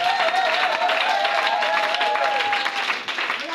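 A church congregation claps and cheers in praise of the Lord, a dense, continuous wave of applause and crowd noise with a sustained sung or shouted tone running through it, loud and steady throughout.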